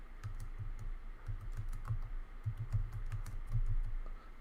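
Someone types on a computer keyboard in quick, irregular bursts of close key clicks with brief pauses between the runs, over a low steady background hum.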